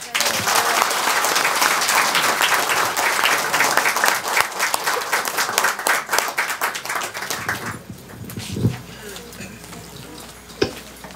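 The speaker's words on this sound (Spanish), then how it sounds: "un fuerte aplauso para ella" A concert audience bursts into loud, dense applause for a performer, sustained for several seconds before thinning out and fading, with a few scattered late claps.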